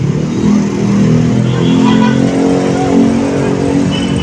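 Street traffic of electric trikes and a jeepney on a congested road in Caloocan, a close, loud engine drone that swells and settles as vehicles crawl past, continuous throughout.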